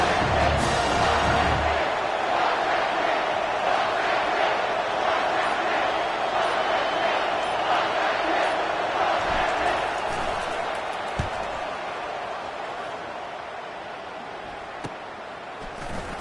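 Simulated stadium crowd in NCAA 25 cheering during a punt return, a broad loud roar sustained throughout, easing off toward the end, with a commentator voice over it.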